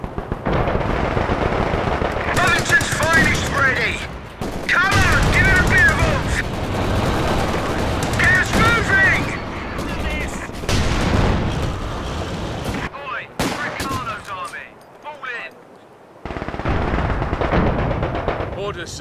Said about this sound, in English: Bloody infantry shooting at us.